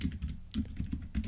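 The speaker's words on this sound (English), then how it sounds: "Then type in WSL" Keys are pressed on a computer keyboard in a short run of steady, close, moderately loud clicks while a command is entered.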